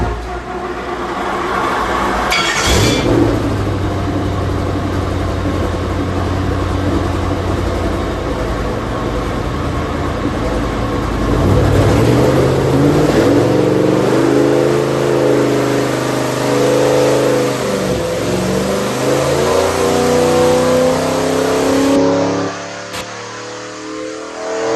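A Ford 4.6L SOHC V8 strapped to a chassis dyno revs up through a full pull, the engine note climbing steadily and loudly for about twenty seconds before cutting off abruptly near the end, with no talk over it.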